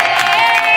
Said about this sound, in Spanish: Muchas gracias por esos aplausos